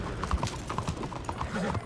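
A horse in Red Dead Redemption 2 trots along a road, its hooves clopping in a quick, steady rhythm close by over faint game ambience.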